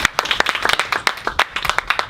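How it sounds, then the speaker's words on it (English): Audience applause at a summit event, a small crowd clapping briskly with distinct individual claps audible, close and fairly loud for about two seconds. "You want to give a round of applause?"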